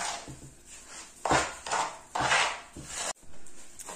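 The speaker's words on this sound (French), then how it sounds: "vous mélangez bien la crème avec la semoule" Semolina and cream being stirred together in a bowl for kalb el louz, a utensil scraping and clinking against the bowl in several close, uneven bursts with no talking.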